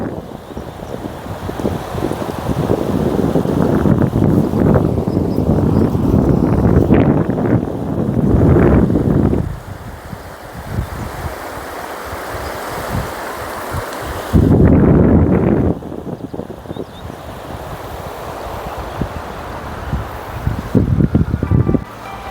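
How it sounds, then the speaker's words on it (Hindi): A river flows beside a resort in the Jim Corbett area, a steady broad rushing wash of water close to the microphone, swelling louder in bursts with wind buffeting over it. "और आप रिवर की आवाज़ को सुन सकते हैं।"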